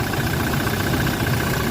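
A Toyota Fortuner engine with an electrical fault idles steadily, a dense even rumble with a faint whine, close and continuous with no talk.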